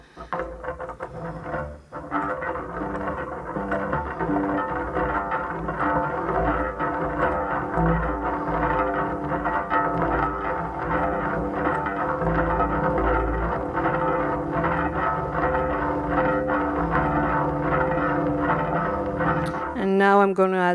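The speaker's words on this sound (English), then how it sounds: "the more you can get really the dirty noise of the distortion." Dense, dirty distorted drone from an effects chain, layered with many sustained overtones and steady loudness throughout, ending with a brief warbling sweep.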